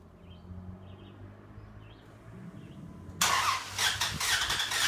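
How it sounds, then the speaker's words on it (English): A 2001 Dodge Dakota engine cranking to life by remote start, with faint birdsong first and then a sudden loud, close catch of the engine that settles into a rough, steady run. "So we'll go ahead and try the remote start."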